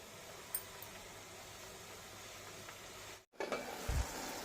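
Pea thoran cooking in a pan on the stove, a faint constant sizzle and hiss with a brief dip partway through and soft scraping of a stirring spoon after it, no one speaking.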